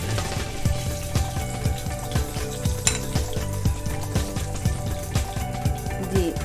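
Pieces of tinda (apple gourd) fry in oil, giving a steady close sizzle, with rhythmic stirring and scraping taps throughout.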